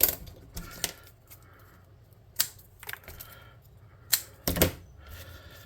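Sharp, crisp snips ring out at irregular intervals as small plastic pieces are cut off for a tabletop model build, each click close and distinct against a quiet background.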